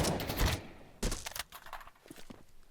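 A few sharp gunshot bursts in the video game Counter-Strike 2, one loud cluster at the start and another about a second later, followed by fainter scattered clicks and thuds.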